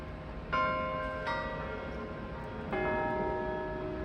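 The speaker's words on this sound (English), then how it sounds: "Nice bell." A church bell rings outdoors in a snowy north Toronto neighbourhood, three distinct clear strikes with long ringing decay, heard from a moderate distance over faint ambient street noise.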